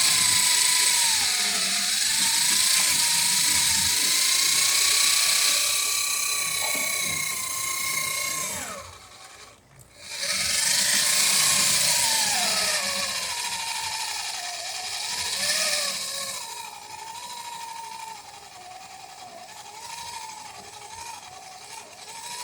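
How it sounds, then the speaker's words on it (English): Drill cutting into a boat hull while a centerboard mechanism is installed on an Alpha Dory, a loud whining tone that rises and falls with pressure, briefly pausing midway before resuming and wavering. "I can control the speed of cut by the amount of pressure I apply on the drill"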